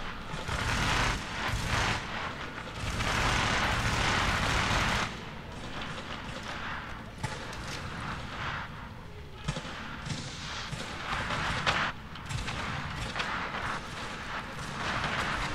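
Rifle gunfire in Tom Clancy's The Division set in New York, dense rattling bursts of shots with loud sustained stretches and sharper single cracks over continuous game noise, fairly steady throughout.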